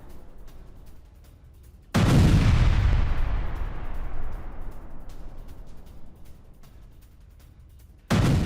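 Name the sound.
bombing of Hezbollah positions by the IDF in news footage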